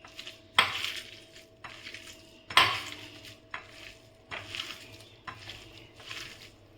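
Hilsa fish mash with salt and coriander leaves being mixed by hand in a metal bowl: a series of irregular clinks and scrapes against the bowl, with soft squelching in between, fairly close and with no talk.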